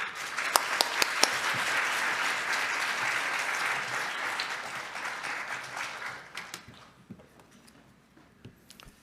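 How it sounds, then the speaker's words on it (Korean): A church congregation applauds to welcome a pastor at an afternoon service, dense steady clapping that fills the room, then thins to scattered claps and fades out. "나오실 때 박수로 환영하겠습니다."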